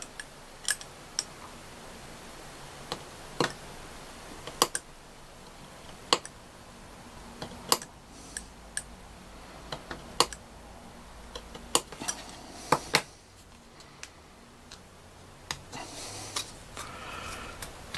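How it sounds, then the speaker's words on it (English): A hobby knife works through a thick piece of plastic from a Rubicon Models T-26 tank kit. Sharp, isolated clicks and snaps come at irregular intervals over a quiet background, close and fairly faint. "And I'll finish off that cut with a knife."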